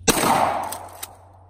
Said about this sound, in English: We're about to have Emily shoot at this target